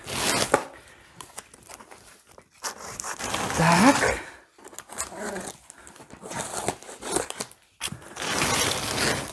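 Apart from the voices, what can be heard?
unpacking a large cardboard box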